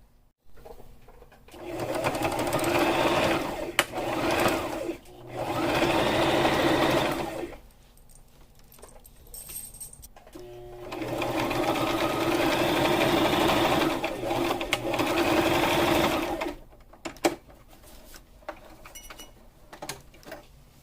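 Sewing machine running a zigzag stitch while fabric and burlap are sewn for a scarecrow crow, three long mechanical whirring runs broken by short pauses, close and loud, with clicks between the runs.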